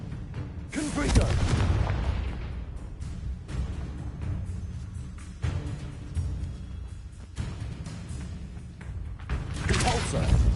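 Heavy booming blasts of the Confringo spell in a wizarding duel game, several deep thuds landing over a steady rumbling background, with other spell effects mixed in.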